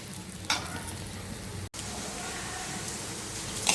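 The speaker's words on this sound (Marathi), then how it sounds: "थोडी भगर भाजून घेऊया" Barnyard millet (bhagar) being dry-roasted and stirred in a pan, giving a steady soft grainy hiss and rustle with a light scrape near the start and a brief dropout midway.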